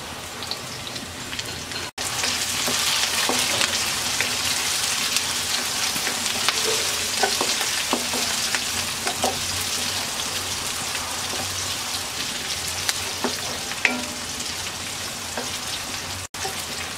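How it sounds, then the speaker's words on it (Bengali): Onion and chopped green chilies frying in a pan of oil, a steady dense sizzle with scattered pops and crackles throughout, close and loud, with no talking. "পেঁয়াজটা ভেজে নেওয়া হয়ে গেছে, দিয়ে দিচ্ছি 5-7টা কাঁচামরিচ কুচি"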